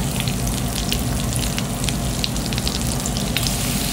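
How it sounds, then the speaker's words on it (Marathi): Garlic sizzling in melted butter in a pan for a homemade red sauce pasta, a dense, loud crackling fry with constant popping like rain on a surface, heard alone with no talk. "लसूण चांगलं भाजून घेऊया"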